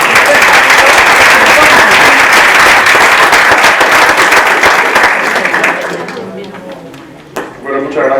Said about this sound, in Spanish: Vamos a darle un aplauso porque nos queda aquí.